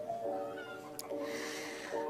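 A cat gives several drawn-out meows, moderately faint against a soft background hiss, with a brief sharp tick in the middle.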